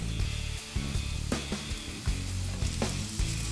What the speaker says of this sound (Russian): Обжариваем лук в течение нескольких минут.